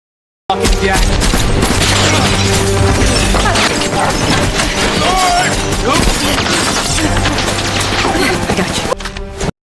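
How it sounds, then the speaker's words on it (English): Rapid gunfire in a film scene set around a forest tower, a dense, loud continuous barrage of shots and crashes filling the whole stretch. "Without hesitation, he shot Ethan."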